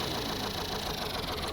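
A vehicle engine in a video game drones loudly at high revs, a steady, continuous roar with slight vibration and no pauses or talk over it.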